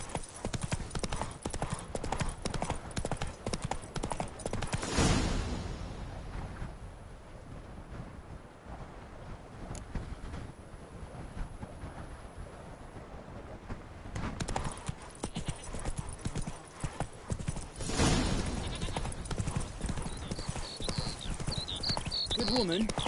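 Horse hooves from The Witcher 3 clatter in a steady galloping clip-clop rhythm throughout, with gusty wind noise and a couple of brief louder surges.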